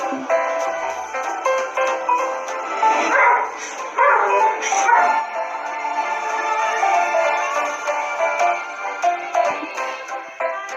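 A dog yips and whimpers almost continuously in high, excited bursts, close and fairly loud, with steady background noise throughout.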